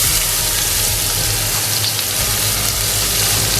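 Chopped onion sauteing in hot oil in a pan for Indian-style spaghetti and meatballs, a steady loud sizzle with no pauses.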